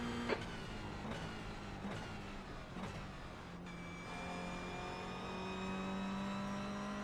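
A Toyota GR86 engine drones steadily at Mount Panorama in a racing video game, with sustained tones changing pitch through gear changes and a few sharp clicks early on, moderately quiet throughout.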